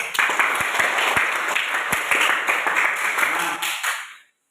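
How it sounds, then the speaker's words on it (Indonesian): A group claps in steady applause for a few seconds, then the clapping quickly fades to silence. "kita tepuk tangan dulu untuk si leader."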